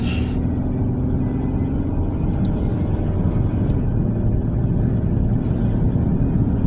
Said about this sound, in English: There's probably gonna be a lot of wind noise from the window.